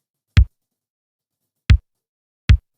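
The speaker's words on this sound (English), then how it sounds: "So this is a straight normal 707 kick, of which I added this effect." An unprocessed Roland 707 drum machine kick sample, played as three dry, punchy thumps separated by silence. The hits are short and clean with no reverb tail.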